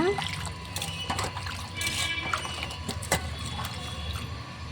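Onions are washed under water while someone is cooking head curry Andhra style, with steady splashing and trickling throughout and soft clinks, while a person talks nearby.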